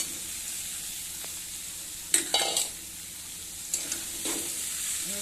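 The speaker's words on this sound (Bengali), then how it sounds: "এবার ভালো করে মশলাটা কষি" Spice masala sautéed with salt in goat fat in a pan: a soft, low background sizzle is interrupted by two clusters of sharp scraping and stirring strokes near the middle and later on.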